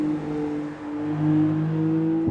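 A Maserati MCPura supercar engine holds a steady drone with a slight rise and dip in revs, loud and continuous, with no voices.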